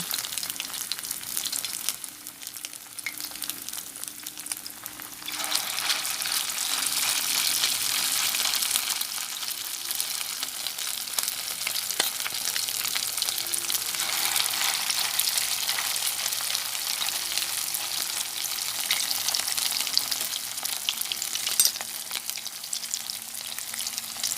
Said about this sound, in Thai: ทอดไปอ่อนๆไม่ต้องไฟแรงนะคะ